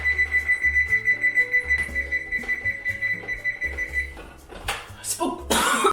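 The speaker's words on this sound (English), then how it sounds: "Timer." Kitchen timer beeping in a home kitchen, a steady rapid train of electronic pulses, close and fairly loud, followed by a few sharper clattering sounds near the end.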